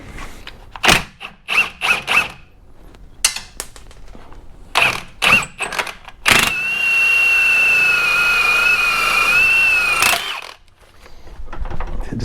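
A ratchet wrench clicks in short bursts on the rear leaf spring bolts of a Club Car DS golf cart, close up, followed by a long squealing metallic creak and more ratcheting.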